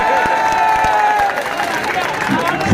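Loud applause and cheering from a crowd at a Congress political rally stage in Khilchipur, Rajgarh, with dense clapping and crowd noise held steady throughout.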